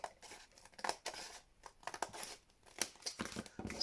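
Scissors snip and slice through paper for a junk journal, with crisp irregular cuts and faint paper rustling and crinkling between them, close and alone.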